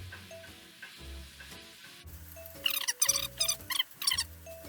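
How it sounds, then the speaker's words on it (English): Flour cooking into hot oil as a roux for tomato bisque, stirred with a steady sizzle and frying crackle that swells in bursts of scraping, close and clear with no talk. "Now we're going to get this in there and try to cook out the flour taste, incorporate it with the oil"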